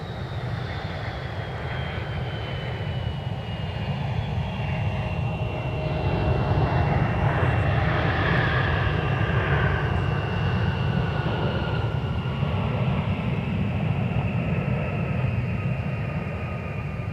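A Delta Airlines Boeing 757-300 lands at Minneapolis–Saint Paul airport, its jet engines producing a loud, sustained roar with a descending whine that swells midway and then holds steady, heard from outdoors with no talking.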